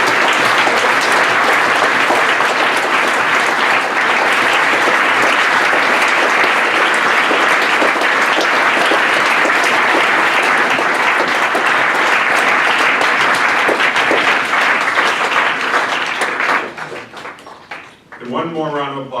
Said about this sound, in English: I'd like for you all to give a round of applause to your coaches who worked so much with you this season.